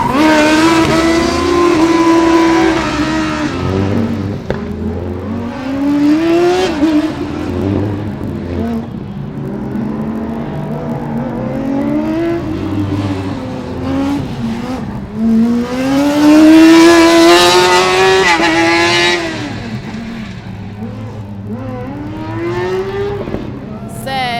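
A Formula Student race car with a team-built engine runs an autocross lap, repeatedly revving up through the gears and backing off in rising and falling whines, passing close and loud with a commentator talking over it.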